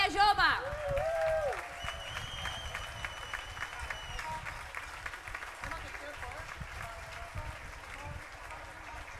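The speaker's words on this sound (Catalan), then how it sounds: "Un fort aplaudiment a la colla jove!" Crowd applause at a town festival for a young stick-dance group performing a traditional ball de bastons, starting after a short cheer and continuing as a moderate, fairly distant wash of clapping with some voices and a tonal sound early on.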